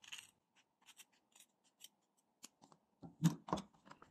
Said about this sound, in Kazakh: Енді ортадан ручкамен сызылған жерінен қиып аламыз.